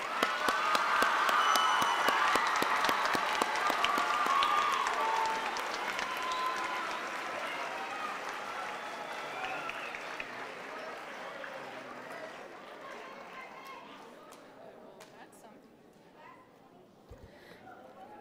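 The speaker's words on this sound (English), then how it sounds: "Please give yourselves a big round of applause," Applause for graduates at an intermediate school graduation ceremony, loud sustained clapping with some cheering and chatter from a large crowd, gradually thinning and fading over the long stretch.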